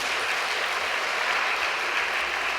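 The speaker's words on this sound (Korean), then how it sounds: "우리 한번 축하의 박수를 한번 다시 한번 보내주시면 감사하겠습니다." Sustained applause from a large audience at a special report on Africa, a dense, even wash of clapping with no break and no voices over it.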